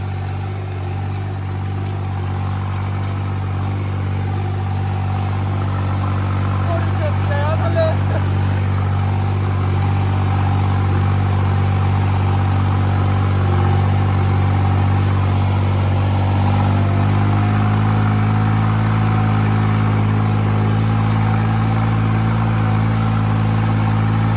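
A Holland tractor engine idles while warming up, a loud, close, steady diesel drone with a deep pulsing tone that shifts slightly lower partway through and keeps running for the whole stretch.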